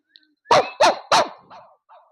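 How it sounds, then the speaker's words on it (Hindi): Pet dogs barking close by in three loud, evenly spaced barks, followed by two softer trailing yips and whines, with no talking. "मेरे इशारे पर भौंकना शुरू कर देते हैं।"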